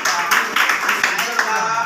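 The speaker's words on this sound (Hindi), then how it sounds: "इसके लिए जोरदार ताली" A class claps to applaud students at a batch class test result announcement, a brisk, close run of overlapping hand claps with voices mixed in.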